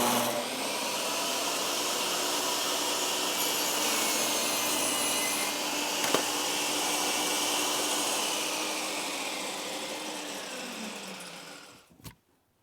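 A table saw fitted with a 40-tooth alternate top bevel blade crosscuts red oak end grain with a steady, loud whining roar that holds for about eleven seconds, then winds down and stops.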